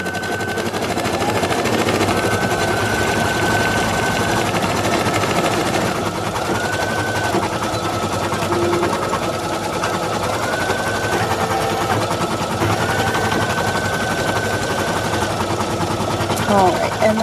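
An embroidery machine stitching felt applique around the eye areas of a fabric mask, running as a loud, continuous rapid mechanical rattle with shifting pitch as the stitching changes direction, steady for the full length.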